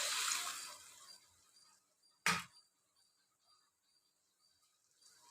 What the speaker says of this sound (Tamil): ஒரு லெமன் சைஸ் அளவுக்கு நான் வந்து ஒரு புளி கரைச்சி வச்சுருக்கேன் அதை வந்து ஊற்றிக்கலாம்